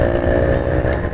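A two-wheeler pulls away from a traffic signal on a city bypass among other bikes, its engine droning loud and steady as it gains speed, busy road noise surrounding it.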